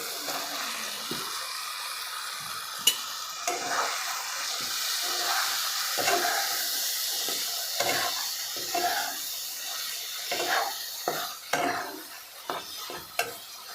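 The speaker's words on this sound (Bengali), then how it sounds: "আমি এখন এখানে হাঁসের মাংসটা দিয়ে দিব" Duck meat fries and gets stirred through a spice paste in a pan, a steady sizzle and hiss broken by repeated scraping strokes of the spoon and occasional sharp clinks, close up with no talking.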